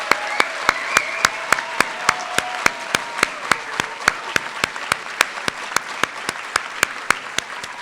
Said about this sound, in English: let's have a big round of applause for all the award winners